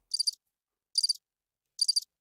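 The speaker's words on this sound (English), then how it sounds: "Yes, crickets." A cricket sound effect gives three evenly spaced bursts of high, rapid chirps, each a quick trill of a few pulses separated by silence, clean and isolated.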